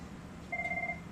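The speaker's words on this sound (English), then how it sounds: "I can also swing around and show you the telephone that's ringing." An IP office telephone rings in a building demonstration setting, a faint electronic warbling tone starting midway and continuing steadily, alone without talk.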